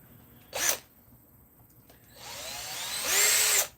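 Machined bushing parts are deburred with a small power tool, a short whirring burst followed after a pause by a longer rising spin-up that holds briefly and cuts off, close and fairly loud.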